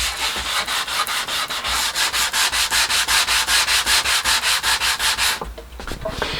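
Steady rhythmic sanding of primer on a car body, quick back-and-forth rasping strokes repeating evenly close up, then stopping abruptly near the end.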